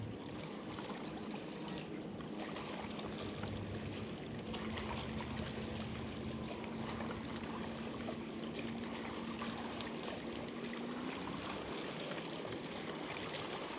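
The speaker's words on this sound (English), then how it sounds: "Man, this wake is terrible." Continuous churning water and wave slap from boat wake on a lake crowded with boat traffic, with a faint distant engine drone running underneath for several seconds.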